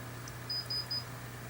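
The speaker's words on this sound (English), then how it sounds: "And I wonder what that beep was." Three short, high electronic beeps in quick succession over a steady low hum, fairly faint.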